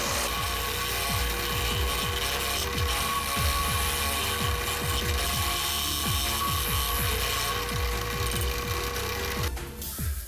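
A drill press hogs out the bowl of a wooden spoon, a steady loud machine drone carrying a rapid run of repeated rough cutting bites that stops abruptly near the end.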